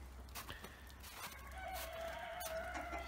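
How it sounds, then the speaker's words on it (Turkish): Chickens in their coop and outdoor run cluck and murmur close by, with a rooster's crow rising midway, over faint background rustle and no speech. "Burası benim tavuklarımın gezme alanı."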